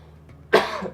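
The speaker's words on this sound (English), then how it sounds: "If I'm coughing or clearing my throat." A single short, sharp cough from a person, loud and close, trailing off into a brief throaty rasp.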